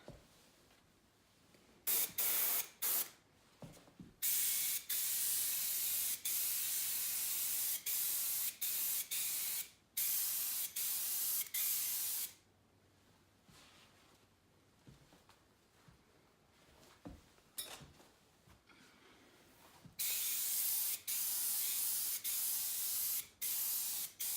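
A Preval vFan airbrush sprays dye onto leather in long hissing bursts of a few seconds each, separated by quiet pauses, with short puffs between them.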